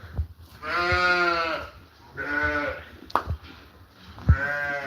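Sheep bleat close by in several long, wavering calls with short gaps between them, over faint background shuffling and thumps.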